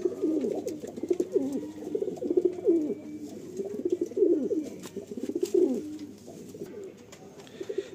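Madrasi pigeons at a breeder's loft in West Bengal coo close by in a continuous, overlapping flow of soft, throaty rolling calls.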